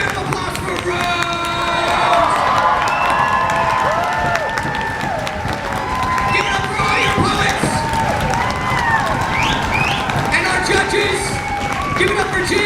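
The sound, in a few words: audience applauding and cheering at poetry slam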